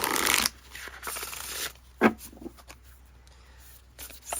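Oracle cards riffle and slide in a short, soft shuffle up close, followed by quieter scattered card taps and flicks.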